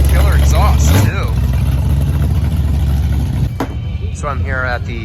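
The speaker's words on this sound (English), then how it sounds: "Killer exhaust too." A custom Chevy Nova at a car show rumbles loudly up close, its deep exhaust note steady, then easing slightly as it moves off, with people talking over it.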